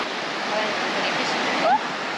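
Water cascades down rocks into swimming holes at Litchfield National Park in the Northern Territory, a steady broad rushing that stays even and moderately loud, with one brief higher chirp near the end.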